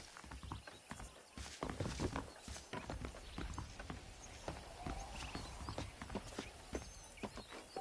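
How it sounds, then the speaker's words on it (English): Horses clip-clop along at a steady walking rhythm in the Red Dead Redemption video game, hooves landing close and clear over a continuous outdoor ambience. "The horses are saddled up over here."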